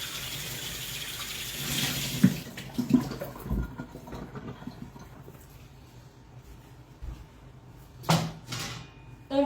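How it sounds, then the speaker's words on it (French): Hot tap water runs into a sink as a cake mould is rinsed under it, a steady close splashing flow with a few louder knocks and spatters. "on le passe sous l'eau très chaude"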